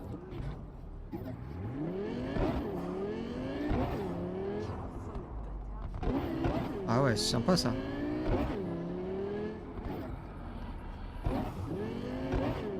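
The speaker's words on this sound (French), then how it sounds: "c'est toujours la voiture la plus rapide" A fast car in Cyberpunk 2077 driving hard, its engine revving repeatedly in rising sweeps as it shifts gears, with a brief squeal of tires, loud and close while someone talks over it.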